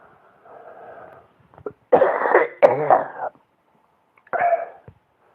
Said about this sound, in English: My cough, it sort of just comes and goes.